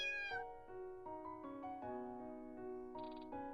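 A cat meows in the video game The Village Demon, a series of clear, drawn-out tonal cries with shifting pitch, fairly soft, without speech.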